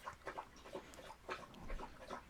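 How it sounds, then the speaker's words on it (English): A pet dog laps up drinking water close by, making a quick, steady run of wet slurping laps with short pauses between bursts. "that's my dog drinking water."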